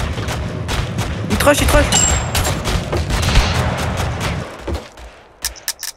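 Rapid bursts of gunfire in the game Totally Accurate Battlegrounds crack out loud and close, dense volleys over several seconds that thin out to a few isolated shots, with players talking over them.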